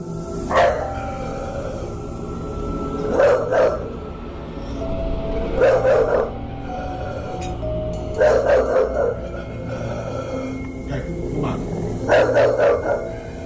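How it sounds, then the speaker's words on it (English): A dog in a kitchen barks in short, sharp bursts, about five spaced groups of two or three barks each, close and fairly loud, with a quiet background between them. "The dog was not just reacting to smoke, it was barking straight at it."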